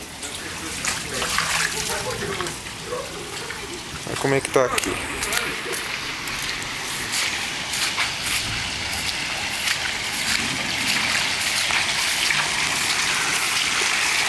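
Rainwater runs and gushes across a flooded slaughterhouse site in São Carlos after a rain shower, a steady broadband rush of water throughout while someone talks over it.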